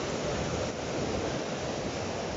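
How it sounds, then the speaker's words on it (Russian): Water slaps and washes against rocks at the Gross Dam Reservoir in Colorado, a steady, close, broadband rush with no distinct individual splashes. "А в камне бьется вода."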